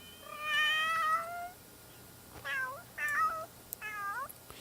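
A cat in The Sims 3 meows clearly several times, a long drawn-out call followed by three shorter meows with brief pauses, heard alone without talk.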